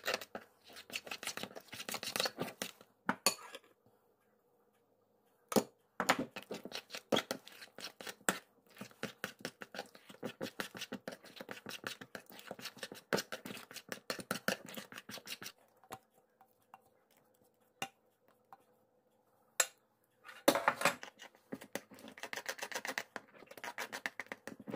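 A spatula or whisk stirs hot cream into chocolate in a bowl, making quiet, close, irregular scraping and slapping strokes in bursts with brief pauses between them.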